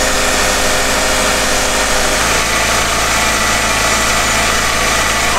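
Volkswagen Passat W8 engine running loudly and close while the ZF 5HP19 Tiptronic automatic gearbox warms up for a fluid change, a dense steady roar that rises slightly as the revs are raised, no talk.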